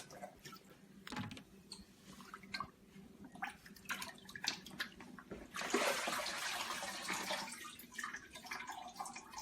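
Turkey breasts go into a sink filled with cold water, with scattered drips and small splashes followed by a fuller sloshing burst near the end, quiet and close with no voices.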